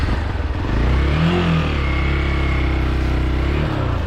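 An off-road motorcycle engine revs on a rough trail, a close, steady mid-pitched drone that swells near the start and holds loud throughout with a slight dip toward the end.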